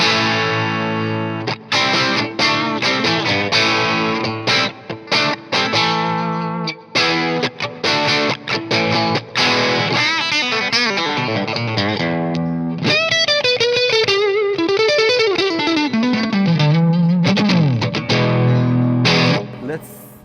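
An electric guitar played through the British-voiced channel of an amp gives a classic rock tone: loud, driven chords and riffs in bursts, then sustained bending lead notes, with no talking.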